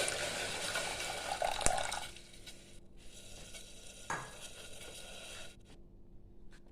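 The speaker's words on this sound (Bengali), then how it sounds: "জল দিয়ে দিচ্ছি।" Water being poured into a pressure cooker for mutton soup: a close, splashy rush of liquid for about two seconds, then quieter dribbles and a brief clatter of kitchen handling.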